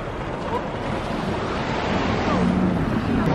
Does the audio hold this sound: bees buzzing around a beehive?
no